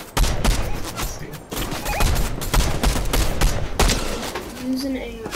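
Rapid bursts of automatic gunfire from Fortnite play loud and close, with repeated volleys and scattered single shots, while people talk over the action.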